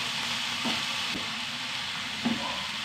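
Food sizzles steadily in a hot pan with salt just added, while a spoon stirs through it with a few soft scraping knocks, close and continuous.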